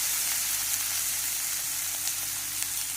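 Ginger and garlic frying in a pan for a Khandeshi pavata curry, a continuous bright hiss of sizzling oil, close and even for the whole stretch, with no talk.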